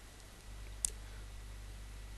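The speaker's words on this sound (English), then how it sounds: "And then I click save." A single crisp computer mouse click, close and quiet, against a faint low hum.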